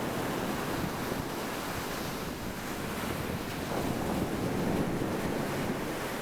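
Sea waves wash onto a beach in a steady, loud roar of surf, mixed with gusty wind buffeting the microphone, with no voices.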